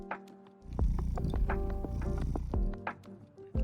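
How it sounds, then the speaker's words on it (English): A cat purrs in the Quilts and Cats of Calico video game: a soft, steady low rumble runs for about three seconds beneath light, plinking game music and sound effects. "The cat is purring."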